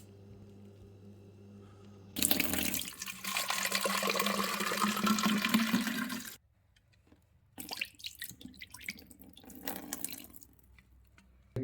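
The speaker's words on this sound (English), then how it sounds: "Get and rinse out your empty Coke bottle" Water pours into an empty Coke bottle and sloshes around as it is rinsed out, in two bursts of gurgling splashes separated by a short pause, close by with no speech.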